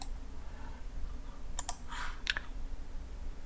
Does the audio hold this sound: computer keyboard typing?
yes